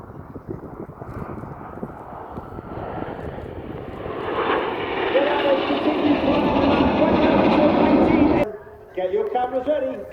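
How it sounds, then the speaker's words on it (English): A Folland Gnat jet flying past at an air show, heard as a growing loud jet roar that swells and sweeps by over several seconds before cutting off, followed by a public-address announcer talking. "the smoke comes on, flying the Gnat."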